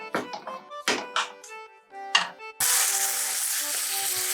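Ground beef frying in a pan with olive oil left over from the soffritto for Bolognese sauce, a loud steady sizzle that starts abruptly after a few thumps and clicks of food going into the pan.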